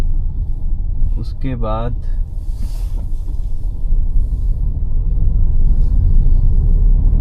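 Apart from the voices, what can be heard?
car driving on road, Ola/Uber taxi in Bhopal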